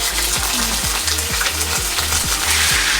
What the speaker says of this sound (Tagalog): Ngayon ilalagay na natin yung pork. Dahan-dahan lang kayo kasi tumatalsik to